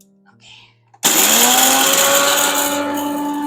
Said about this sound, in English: dry grind this